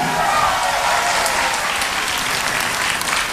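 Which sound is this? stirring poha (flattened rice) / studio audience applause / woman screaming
studio audience applause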